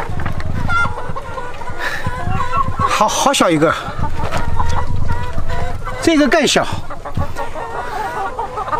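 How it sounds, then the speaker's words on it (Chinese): Chickens about seven months old cluck and squawk at the door of a mountain chicken coop, with repeated loud calls close by throughout, while people talk over them. "你看这鸡都长大了，这鸡有七个多月了，刚刚到鸡舍门口。"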